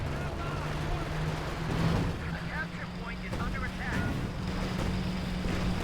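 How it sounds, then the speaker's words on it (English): Bazooka blasts, tank rifle grenades and tank cannon fire from a Company of Heroes 2 battle rumble in a dense, continuous wash with a few louder booms, under steady talk from a commentator. "A lot of bazooka fire and tank rifle grenades, plus the cannon fire here."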